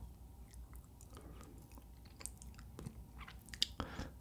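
Rasgulla eaten close to the microphone: soft, wet chewing and squishing bites with occasional sharper smacks, loud and intimate, with no talking.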